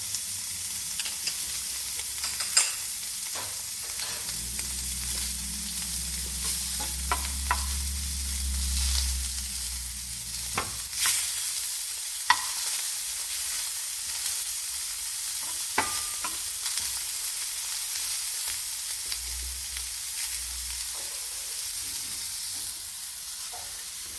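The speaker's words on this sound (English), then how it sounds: "So we're going to start the sauce in the same pan. We're going to add about a tablespoon of shallots." Shallots sizzle in the same pan used to sear steak for a pepper sauce, a constant close hiss with occasional spatula scrapes and stirring clicks running for a long stretch, with no voices.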